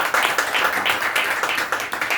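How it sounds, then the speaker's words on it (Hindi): A seated audience at an literary honours ceremony claps in a brief, dense burst of applause, loud and fairly close, with no voices over it. "एक बार जोरदार तालियां बजाइए।"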